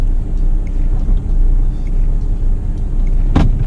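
A Volvo V40 hatchback with a five-cylinder turbo diesel engine drives along, giving a steady, loud low rumble of engine and road noise throughout, with a brief louder swell near the end.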